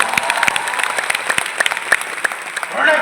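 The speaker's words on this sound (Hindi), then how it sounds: "जोरदार तालियां हो।" Audience clapping at a motivational speech event in a Patna hall, a dense patter of claps running throughout at moderate loudness, swelling slightly toward the end.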